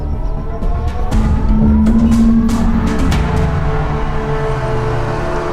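A car brakes to a stop at a police checkpoint, a loud engine drone with a brief tire squeal that climbs and then fades as the vehicle settles. No one speaks.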